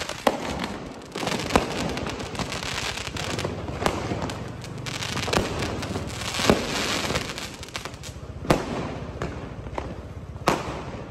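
Diwali firecrackers and fireworks burst in Puranpur, with repeated sharp bangs and cracks at irregular intervals, some near and loud, others farther off, over a continuous crackling outdoor din.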